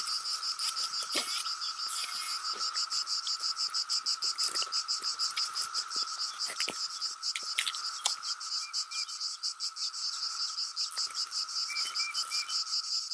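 Cicadas near a pool keep up a dense, continuous high-pitched buzzing chorus, pulsing rapidly and evenly throughout, with a few brief clicks and no voices.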